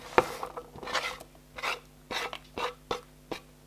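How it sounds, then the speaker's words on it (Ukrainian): Boiled chicken eggs grated on a coarse grater: a series of short rasping scrapes in a steady back-and-forth rhythm, close and fairly quiet, no talking. "Відварені курені яйця тремо на великі терці"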